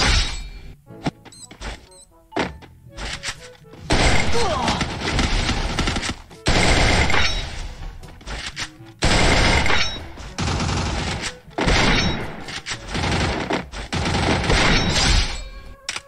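Gunfire from the mobile battle game Free Fire, including AWM sniper and shotgun shots, comes in loud, dense bursts of rapid shots with sharp impacts, separated by short pauses across the stretch.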